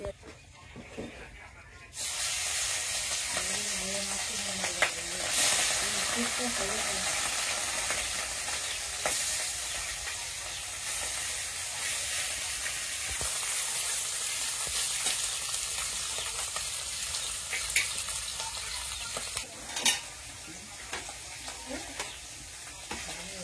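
Fish frying in a pan in a Bangladeshi village kitchen, a steady loud sizzle and hiss that runs almost the whole time, with occasional stirring scrapes and someone speaking underneath.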